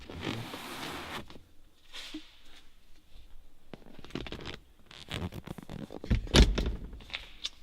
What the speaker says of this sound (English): Doors shut nice and tight